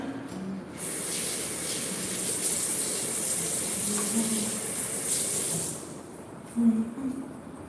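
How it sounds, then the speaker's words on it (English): A kitchen tap runs as fingers are rinsed under it, a steady hissing splash lasting about five seconds before it is shut off, with a brief clunk afterward. "I'm gonna go rinse my fingers"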